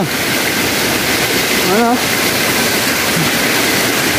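Water rushes from roadside spouts near a temple in a continuous, loud wash like a heavy outflow, with a brief voice-like tone rising over it midway.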